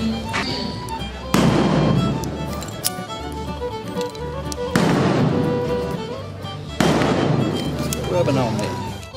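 Sharp gunshots from .45 Long Colt revolvers during a mounted shooting rodeo match, three loud cracks spaced a few seconds apart, each with a ringing decay, over steady outdoor background.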